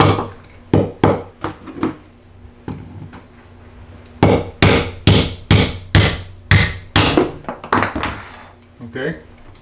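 Hammer strikes on a metal pipe flange during plumbing work on a house addition: a dozen or so sharp, ringing clangs, some in quick runs and others spaced, loud and close, with someone speaking at times.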